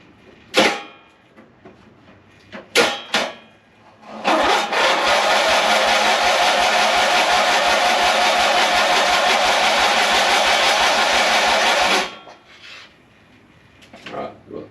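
A turbocharged ride-on lawn mower engine cranks steadily for about eight seconds with a fast rhythmic chug, loud and close, between short clattering bursts of handling noise before and after.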